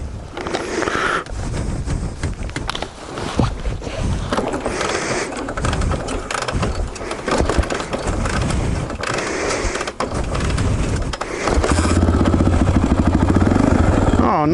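A 2004 Honda XR400R dirt bike is kicked over with clattery mechanical attempts, catches and settles into a loud, close, steady thumping idle near the end.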